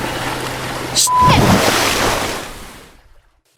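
Choppy water slapping and surging in a video game as a speeding motorboat's wake hits, a broad rushing swell building after a brief shout, then fading out to silence.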